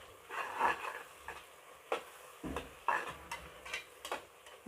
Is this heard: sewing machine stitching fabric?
no